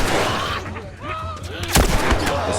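Gunfire aimed at an infected Clicker in The Last of Us Remastered: a couple of sharp, loud broadband shots near the end, after a stretch of game ambience, with faint talk-like sounds underneath.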